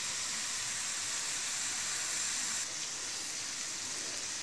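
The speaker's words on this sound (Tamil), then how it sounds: "வெங்காயம் 1-2 நிமிஷம் நல்லா வதங்கட்டும்." Onions sautéing in a pan for palak paneer, a steady soft sizzle and hiss that runs unbroken throughout, fairly faint and with no voices over it.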